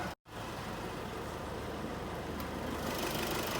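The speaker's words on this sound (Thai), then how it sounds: "เสียงเครื่องเนี่ยคือตัวนี้กล้องมันใกล้นิดนึงนะครับ" A Nissan pickup truck's engine idles with the microphone held close, a steady low rumble that stays even after a brief cut at the start, with no talking.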